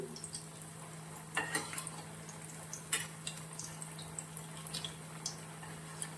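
Sweet corn vada sizzle quietly in hot oil over a medium flame, a soft steady crackle broken by a few sharper pops and light clinks as the fritters are turned.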